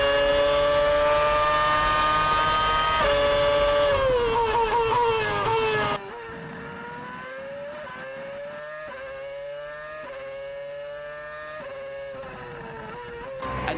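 Formula 1 Ferrari car lapping the Bahrain desert circuit, a loud, sustained high-pitched engine whine rising and falling through gear changes and a chicane, steady and close throughout.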